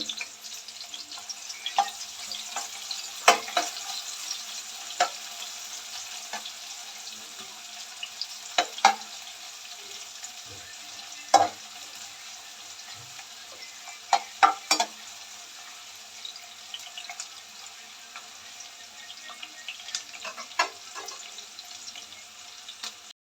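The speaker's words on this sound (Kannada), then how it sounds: "ಈರುಳ್ಳಿ ಇದು ಸ್ವಲ್ಪ ಎಣ್ಣೆಯಲ್ಲಿ ಬ್ರೌನ್ ಕಲರ್ ಬರಬೇಕು" Onion pieces frying in a little oil, a steady soft sizzle with scattered clicks and stirring taps of a utensil in the pan, close and fairly quiet.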